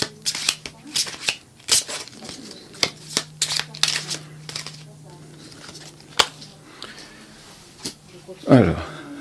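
Oracle cards shuffled by hand in a series of quick, crisp riffling bursts with short pauses between, fairly close, ending in a louder flurry; a faint steady hum runs underneath.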